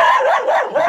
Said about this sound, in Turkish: Köpeği kızdırdık abi.